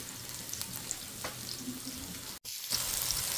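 Chicken frying in a pan while it turns golden brown, a steady crackling sizzle with scattered pops, close and continuous apart from a brief cut near the end.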